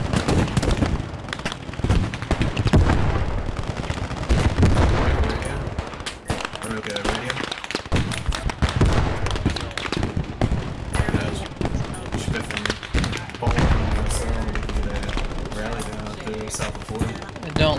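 MG42 machine gun laying down suppressing fire in the WWII shooter Squad 44, a dense, sustained rattle of automatic gunfire and nearby shots running almost the whole way through, with someone talking over it.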